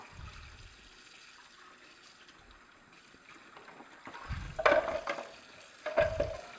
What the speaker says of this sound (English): And I run water through this opening to get the last bits out.